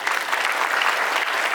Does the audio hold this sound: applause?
yes